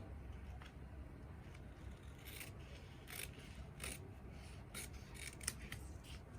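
Scissors snip through fabric while cutting pieces for a kaftan, a series of short crisp cuts at an uneven pace over a low background hum.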